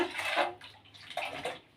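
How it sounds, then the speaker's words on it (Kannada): Water pours into a strained tamarind mixture for pani puri pani, a short, close splashing stream lasting under two seconds with no speech. "ಇದಕ್ಕೆ ನೀರು ಬೆಳೆಸ್ಕೊಳ್ಳೋಣ"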